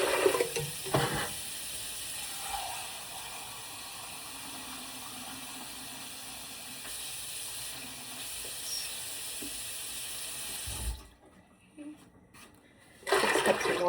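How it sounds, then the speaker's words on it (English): Tap water runs steadily into a cooking pan as a soft, even hiss lasting about ten seconds, then cuts off abruptly; no one talks over the flow. "Water in the pan."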